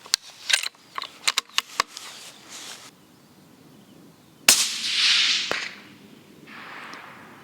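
A rifle fitted with a Minox 5-25x56 LR riflescope fires a single loud, sharp crack that trails off in a brief hiss. Scattered mechanical clicks and taps come before it, and a softer hiss follows.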